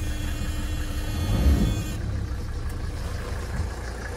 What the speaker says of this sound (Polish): To ten pasek słychać od klimatyzacji.